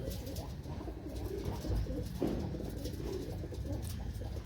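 Soft, repeated cooing of doves close by, a low steady murmur with a few faint chirps mixed in.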